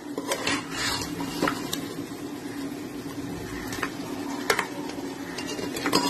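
Crab pieces are sautéed over a high flame, with a utensil scraping and clinking against the pan as they are stirred. A steady sizzle sits underneath irregular metallic scrapes, close up and with no talking.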